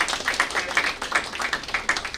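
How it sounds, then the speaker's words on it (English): A small audience at a village conference workshop claps for a speaker. The claps come as a sparse, uneven patter of individual hands, fairly close, with no talk over them. "a round of applause for the speaker Kavita also"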